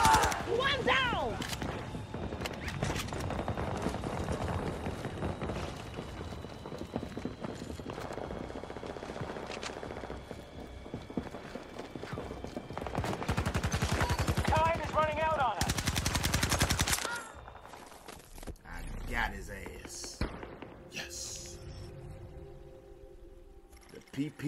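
A PP2000 submachine gun fires in a first-person shooter video game, rapid rattling bursts stacking into long, dense strings of shots amid other battle noise, with a player talking excitedly over the action.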